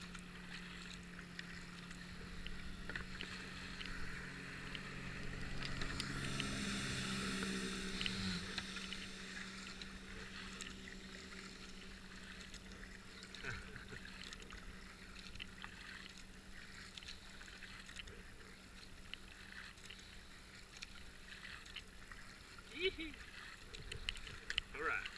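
Mini jetboats race along a river during a marathon event, a broadband engine roar swelling and passing mid-way over steady background noise, with people talking nearby.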